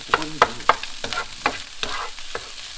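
Scrambled egg and cooked rice frying in a pan, with steady sizzling and a series of distinct scraping, stirring strokes of a utensil against the pan, close and clear with no talking.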